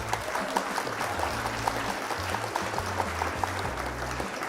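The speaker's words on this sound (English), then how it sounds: "And a round of applause for our opponent." Applause rings out for an opponent after a card game match, a steady patter of clapping heard over low background music with a steady beat, continuing for several seconds.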